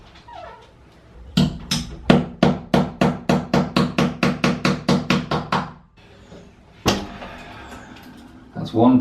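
A hammer drives the hinge pin out of a hollow door, striking about sixteen sharp, evenly paced blows close by, then a few heavier knocks after a pause; a voice speaks briefly in between.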